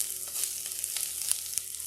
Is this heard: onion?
yes